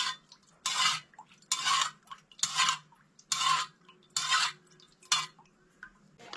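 A spoon stirs half a spoonful of salt into whisked dahi vada batter in a bowl, giving six rhythmic scraping strokes with short pauses between them. The strokes are close and moderately loud, and no one speaks.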